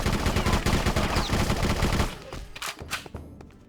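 Gunfire rattles at a shooting range in the video game BloodRayne, with rapid automatic bursts for about two seconds and then a few scattered, fainter shots.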